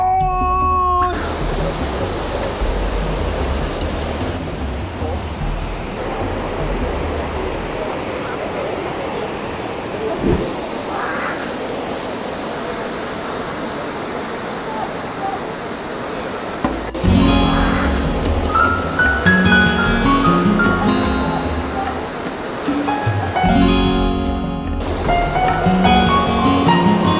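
Kegon Falls, a tall waterfall in Nikko, Japan, gives a steady, loud broadband roar of falling water that continues throughout. Voices talk over it in places.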